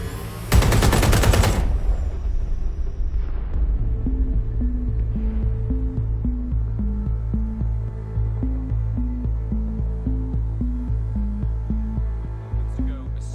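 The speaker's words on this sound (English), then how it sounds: "A series of explosions devastated 3 sites in London." A burst of loud gunfire and explosions in the video game Watch Dogs Legion, set in London, cuts off quickly and gives way to a low, pulsing electronic music beat that continues to the end.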